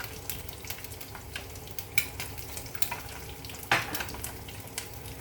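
Scrambled eggs fry in a pan at home breakfast, a soft continuous sizzle with occasional stirring scrapes and one brief louder clatter of the utensil against the pan.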